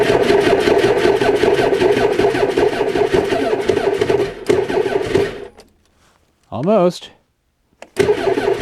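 A 2021 Ski-Doo Expedition Sport 600EFI snowmobile engine turning over and running loudly nearby on a chilly morning, then cutting out into near silence before briefly firing again; a voice speaks over it.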